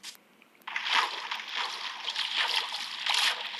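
Continuous splashing and sloshing water as a Minecraft player moves through water, steady and close after a quiet start, with no talking.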